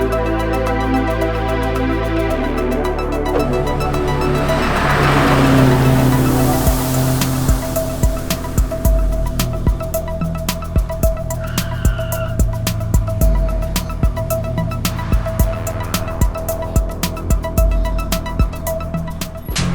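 A Toyota Altis race car in an endurance racing series runs on a track, its engine droning steadily with a loud surge and rushing sweep midway, then continuing with rhythmic mechanical ticks and clatter close by, no talk.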